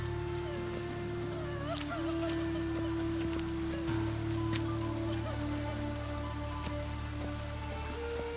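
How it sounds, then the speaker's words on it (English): Steady rain patters over a constant hum and low drone, with scattered droplet ticks throughout and no speech, in the video game The Witcher 3. "A real cloudburst. Rain, I like rain."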